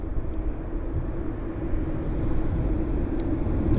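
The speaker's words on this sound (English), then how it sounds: "There's Shanghai taxiing right now" An airliner taxis at Vancouver airport, a steady low engine rumble and whine heard from a distance outdoors, slowly growing a little louder, with no talking.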